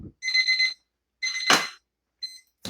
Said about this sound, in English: My timer's going off for my oven.